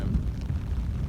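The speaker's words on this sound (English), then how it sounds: "You can hear the thunder in the background." A low, deep thunder rumble from an approaching storm rolls through, muffled and sustained like distant thunder, with no speech.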